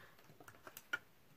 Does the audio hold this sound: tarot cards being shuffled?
yes